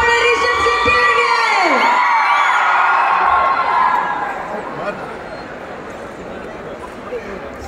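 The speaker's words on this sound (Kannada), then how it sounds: "ಬಳ್ಳಿ ಬಳ್ಳಿ ಚಪ್ಪಾಳೆ ರಿಷಬ್ ಶೆಟ್ಟಿ ಅವರಿಗೆ" A crowd greeting Rishab Shetty at a film event, loud cheering and whooping with high voices and whistles over dense noise that fades after a few seconds into quieter crowd murmur.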